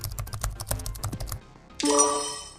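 Rapid keyboard typing clatters for over a second during an attempt to hack a security system, then stops and gives way to bright electronic chimes and tones.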